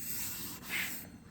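A Scotch-Brite pad scrubs flash rust off cold rolled steel parts for a belt grinder build, giving a continuous close abrasive rubbing with a brief swell near the middle before it tapers off.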